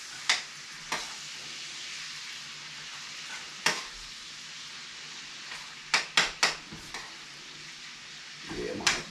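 Bacon and sausage frying in plenty of grease on a stove, a soft continuous sizzle broken by several sharp scrapes and knocks as the pan is stirred, no talking.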